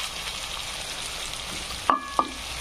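Spices for masala pulao fry in a pan with a constant hissing sizzle, broken near the end by two quick metallic clinks of a utensil.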